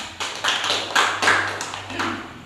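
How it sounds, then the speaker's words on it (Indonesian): Children in an Indonesian classroom clapping hands together, a few loose bursts of close, uneven claps over about two seconds with no talk. "Tepuk tangan dulu untuk kita semua."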